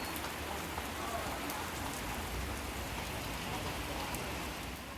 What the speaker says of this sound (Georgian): ვაი მე როგორ აწვიმდა